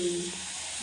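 Chili pakoras coated in gram-flour batter fry in a wok of hot oil, giving a brief, steady sizzle close by with no one talking.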